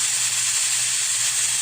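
A pressure cooker cooking mung beans with ground pork vents steam in a loud, steady hiss that holds without a break throughout.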